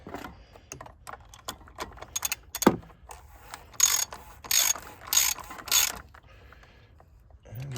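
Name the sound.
ratchet with extensions tightening car oil drain plug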